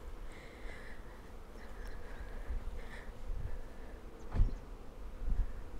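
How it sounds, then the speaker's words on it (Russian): Honeybees buzz around their hives in a forest in February, a soft, steady hum from several insects close by, with a louder buzz passing near the microphone. "Покажу, как наши пчелки трудятся. Вон их сколько."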